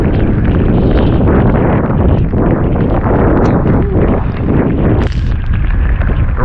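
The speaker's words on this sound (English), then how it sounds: "The wind kicked up too." Strong, gusting wind buffets the microphone during a cold front with rain on a flounder fishing trip, a loud continuous roar with rumbling low-end blasts throughout and no talk.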